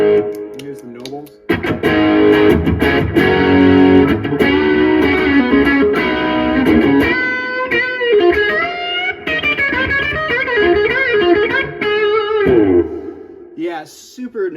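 An electric guitar runs through a Nobles overdrive pedal, playing loud, driven chords and single-note lines for about eleven seconds before ringing out, with a brief voice at the very end.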